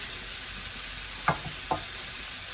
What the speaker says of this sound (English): sauteed onions, and especially sauteed onions with garlic